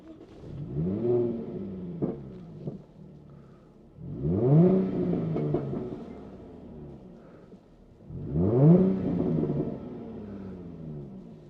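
A 2014 Jaguar F-Type V6 S with automatic gearbox, 3.0-litre engine, revved three times in succession, each blip rising sharply and falling away into a quieter idle between, heard close and clear with no talk.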